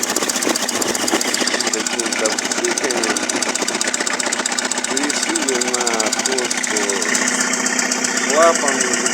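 Steady knocking from a 5-litre car engine idling in a repair shop, a continuous loud mechanical clatter with someone talking over it throughout.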